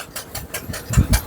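A tractor engine runs during loading work, a short stretch of close, rhythmic chugging pulses with a rattly edge.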